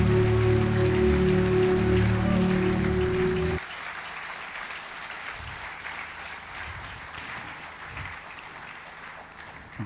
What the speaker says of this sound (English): we can honor that with a resounding applause